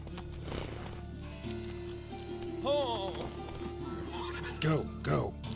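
Horse hooves clip-clopping on city streets in The Witcher 3 video game, a steady close trot with a faint clink of tack and a brief neigh near the end, over a low ambient game hum.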